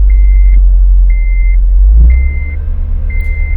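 A Honda Civic engine, started and revved to about 2,000 RPM during an oil change, gives a loud, close, low rumble whose tone shifts partway through, while a car's warning chime beeps repeatedly over it.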